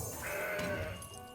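A single drawn-out goat bleat from the card game Legends of Runeterra, clear and fairly loud, wavering briefly before fading.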